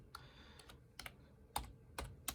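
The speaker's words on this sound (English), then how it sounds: "I'm typing with one hand because I didn't think to grab my tripod." Sparse, one-handed typing on a computer keyboard while entering items into an inventory system for a warehouse sale, heard as a few separate clicks and small bursts spaced irregularly, quiet and close.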